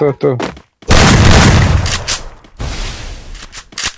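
Two heavy, booming 12-gauge shotgun shots in a video game (Free Fire mobile), in quick succession with a noisy tail, then brief scattered sounds; short voice fragments at the start.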